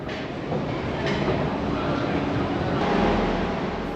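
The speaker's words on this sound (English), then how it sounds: "Waverley Station, Edinburgh's main railway station and one of the busiest transport hubs in Scotland" Busy interior ambience of Waverley railway station in Edinburgh, with a continuous loud rumble of trains and station noise, steady throughout with faint voices mixed in.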